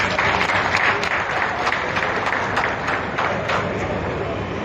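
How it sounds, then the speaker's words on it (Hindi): Dense, continuous applause from a large audience at a public event where Delhi's chief minister flags off DTC buses, steady and loud throughout with no break. "भाई अगर सही काम हो रहा है तो तालियों में कमी मत कीजिए"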